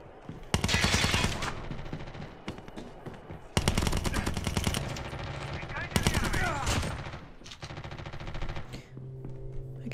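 Bursts of automatic gunfire from a weapon in the mobile shooter Call of Duty Mobile, three long rapid-fire volleys with short gaps between them, loud and close, with faint game effects underneath.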